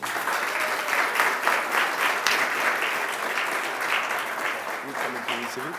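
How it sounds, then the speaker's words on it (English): Audience applause at a SUNY Downstate anniversary event after a New York City Council member's presentation, a steady dense wash of clapping that holds evenly throughout, with faint voices underneath near the end. "so give him a round of applause"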